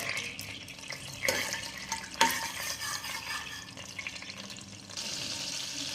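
Chickpeas and whole spices frying in oil for chole masala curry, a steady broadband sizzle with a couple of louder spoon scrapes and stirring knocks, close up and continuous throughout.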